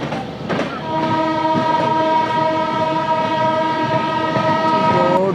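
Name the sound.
Bhopal Express train departing the station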